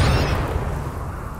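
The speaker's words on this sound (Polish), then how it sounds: "Te szczury wybuchają" Exploding rats blowing up in Rimworld during an extreme-cold game: a loud, close burst with deep rumble that spreads into a broad roar and slowly fades, with no voices.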